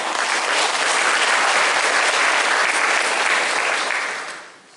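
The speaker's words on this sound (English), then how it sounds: "So give yourselves a round of applause for that." A town hall audience breaks into sustained, full-room applause, steady and loud for several seconds before fading out at the end.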